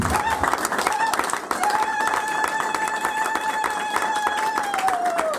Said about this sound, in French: Est-ce qu'on peut applaudir quand même pour Madame Léa